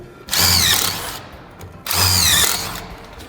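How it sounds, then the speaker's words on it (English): Two bursts of a power drill pre-drilling into a 2x6 wooden board, each about a second long, loud and close, with a short pause between them. "And drill your first one."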